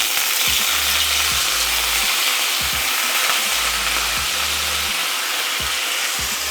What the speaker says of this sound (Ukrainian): Додаю мариноване м'ясо.